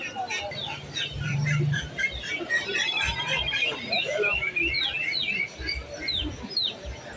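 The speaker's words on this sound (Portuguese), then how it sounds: "Os pintinhos, os galinhos, os galinhos, passarinho de tudo." Chicks and roosters at a busy animal market give many overlapping high cheeps and calls over a constant background murmur, with occasional voices nearby.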